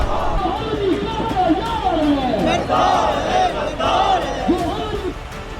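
Protest crowd in Pakistan chanting against Israel, many voices shouting in rising and falling rhythmic waves, loud and close throughout.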